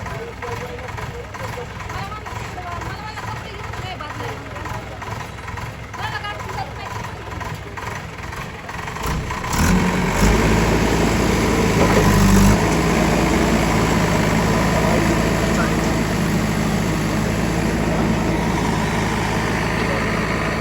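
A JCB backhoe idles on a village farm with a steady low diesel rumble that grows louder and heavier partway through, and voices can be heard around it.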